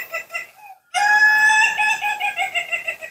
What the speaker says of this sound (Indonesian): ketika kamu dengar suara ayam itu enjoy, happy